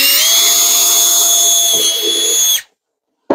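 A power drill whines loudly and steadily as it bores a pilot hole along a mold line in a plastic RV holding tank, its pitch dipping briefly before cutting off abruptly into silence.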